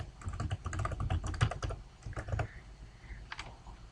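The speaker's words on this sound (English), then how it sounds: "and also type in my password" Someone types a password on a computer keyboard, with a quick burst of close, crisp keystrokes that thins out into a few sparser taps.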